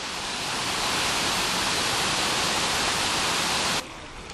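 A stream rushes steadily over stones in a dense, even hiss of water, close by, then drops abruptly quieter near the end.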